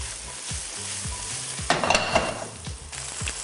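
Mushrooms fry in a very hot pan with a steady, fairly loud sizzle, broken by a brief burst of crackling and a few light utensil scrapes. No one speaks.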